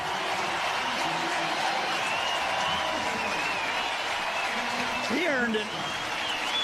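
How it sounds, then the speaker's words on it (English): Baseball stadium crowd at a Mets vs Brewers game applauding in the background, a steady wash of clapping under a radio announcer's commentary. "this crowd is starting to realize what's happening right now. Yeah. And applauding accordingly."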